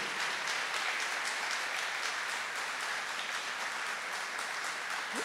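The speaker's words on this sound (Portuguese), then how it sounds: "Pode aplaudir." Steady, fairly faint applause from a congregation at a church gathering, even and continuous throughout with no talk over it.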